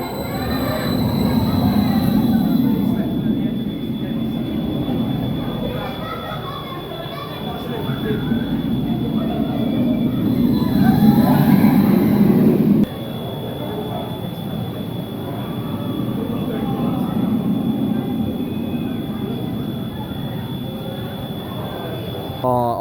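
Roller coaster ride on Mandrill Mayhem at Chessington World of Adventures, heard as a steady rumbling rush of wheels on track with wind noise, rising and falling in waves throughout, with a faint high whine and some voices mixed in.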